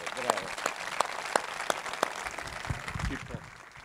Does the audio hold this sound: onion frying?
no